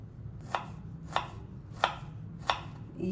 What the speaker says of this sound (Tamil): இப்போ இந்த ரவுண்டாக நறுக்கிறது எல்லாத்தையும் நம்ம வந்து பொடி பொடியாக நறுக்கிடலாம்